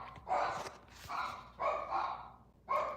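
A dog barks in several rough, uneven bursts at moderate distance, with irregular spacing between the barks over steady background noise.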